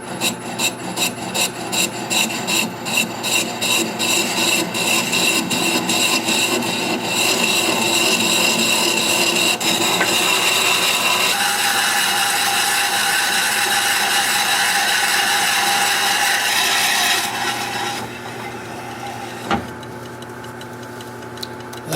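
A 2 1/8 inch bit bores into a walnut blank spinning on a wood lathe at 150 RPM, giving a continuous rasping, rubbing grind with rhythmic ticking, loud and close, easing off toward the end.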